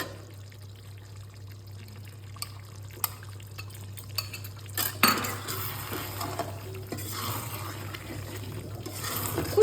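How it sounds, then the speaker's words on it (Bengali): Coriander leaf paste is stirred into cooked chicken in a pot, with scattered spoon clinks and scraping against the metal over a low steady kitchen hum, growing busier toward the end. "এবার আমি এই ধনে পাতা পেস্টটা এর সঙ্গে মিশিয়ে দেবো"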